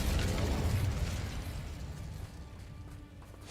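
The Incendio fire spell in Hogwarts Legacy blasts out as a loud, rushing burst of flame that gradually tapers into a fading roar over a few seconds, heard alone without talking.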